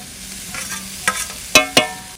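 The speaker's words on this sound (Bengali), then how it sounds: "এবার পেঁয়াজ আর ডিমের শাক, কাঁচা লঙ্কা একসঙ্গে দিচ্ছি।" Onion, fresh greens and green chilli are tossed into a pan of fried potatoes seasoned with salt and turmeric, giving a soft sizzle broken by a few sharp spatula scrapes and clacks near the end.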